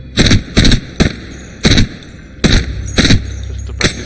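An R99 submachine gun fires in Apex Legends in several short, loud, rapid bursts separated by brief pauses, each burst crackling and sharp.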